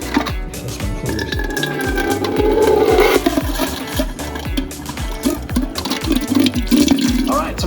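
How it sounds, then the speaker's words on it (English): Water rushes steadily through a newly installed refrigerator water filter as it is flushed, a loud continuous gurgling flow with bubbly surges and no voices. "We are actually gonna flush about 2 gallons of water through this new filter"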